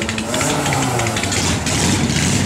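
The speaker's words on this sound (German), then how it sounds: "Trike, du sagst 186 PS, was ist das für ein Motor?" The engine of a 186-horsepower trike motorcycle at a motorcycle meet in Geiselwind runs loudly and steadily nearby, a dense continuous rumble with no breaks.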